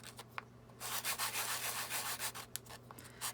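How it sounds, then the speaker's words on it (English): A wine cork is sanded smooth by hand with heavy-duty sandpaper, giving a series of close, rhythmic scratchy rubbing strokes that rise and fall in quick succession, with no talking. "So I just take it and I sand like that, and then just sand the other side."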